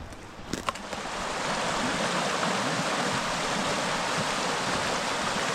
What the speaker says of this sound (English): We're getting close to the creek here.